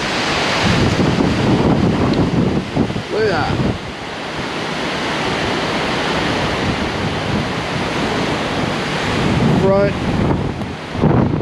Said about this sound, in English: You can hear the wind though.